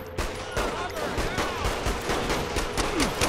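Handgun fire in the video game Saints Row The Third: rapid, sharp pistol shots in quick bursts, loud and close, with game sounds and voices mixed in.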